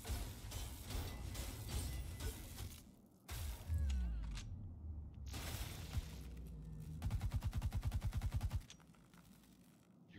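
Enemy gunfire in The Surge 2, heard as several loud bursts broken by short gaps, with a tight, rapid rattle of automatic shots near the end before it cuts off.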